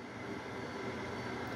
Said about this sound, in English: there were two subways riding down the railroad tracks over there